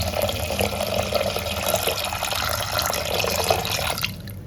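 Water poured from a glass into a pot of khoya while making ghee at home, a steady splashing stream that runs continuously and then stops abruptly near the end.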